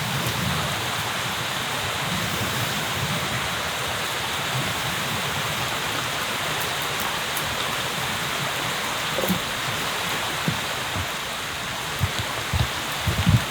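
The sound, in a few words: rain falling on a leaky survival shelter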